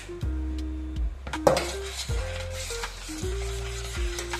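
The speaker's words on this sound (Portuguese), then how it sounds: "Vamos mexer muito bem." A spoon stirs birthday cake batter in a bowl, clinking and scraping against the sides in irregular strokes, close and fairly loud, with a soft background hum and no talking.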